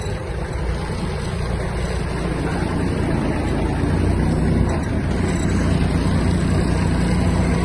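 The small engine of a Japanese Kubota GL-240 mini tractor runs steadily and loudly, its rumble growing slightly as the tractor pulls away, with no talking.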